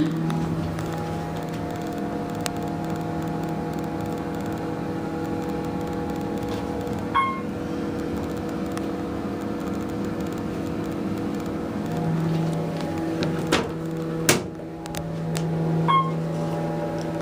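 An Otis Series 1 hydraulic elevator at Gallery Park 1 in Raleigh, North Carolina, with a steady low motor hum throughout, faint clicks and a chime partway through, then a couple of sharper clunks near the end.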